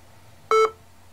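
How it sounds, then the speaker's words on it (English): A single short electronic beep sounds once, clear and close, against a quiet low hum. "It's just randomly beeping at me now."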